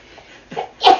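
A single sneeze bursts out close and loud after a short sharp intake of breath, and a faint soft sound comes just before it in an otherwise quiet room.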